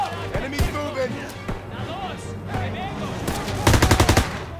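Gunfire in the Call of Duty WW2 video game: scattered single shots followed by a rapid automatic burst near the end, loud and close, with voices talking over the battle.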